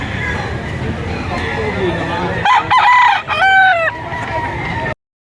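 A Sweater x Golden Boy gamefowl rooster crows loudly and close, a few rising calls over steady market chatter.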